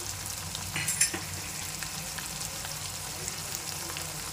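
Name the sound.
stirring mutton fenugreek fry with spices in hot pan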